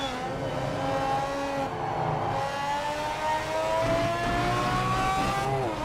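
Racing car engine from a video game, a 24-hour spec Formula 1 car, revving loud and close with rising pitch sweeps as it accelerates through gears, continuous for the whole stretch.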